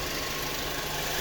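A 2017 Volkswagen Passat engine idles steadily while warming up after an ATF fluid replacement and oil change, a continuous close mechanical hum with faint knocking texture and no talk.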